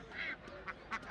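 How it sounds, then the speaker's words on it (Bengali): Ducks at a village market in Golakandai, Bangladesh, being unloaded from a vehicle and sorted: a few short nasal quacks close by, with a brief pause between calls over a busy market background. "গাড়ির থেকে হাঁস নামানো হচ্ছে আর ভাইয়ারা বাছাই করে নিচ্ছেন"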